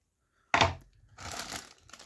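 Paper instruction sheets from a Hasegawa 8-ton half-track model kit are handled, giving a sharp crinkling burst and then a second, softer stretch of rustling. The sounds are close and otherwise quiet.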